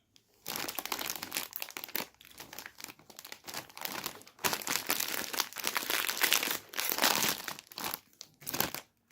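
Snack bags being handled and torn open, loud close crinkling and rustling of plastic packaging in repeated bursts with brief pauses between them.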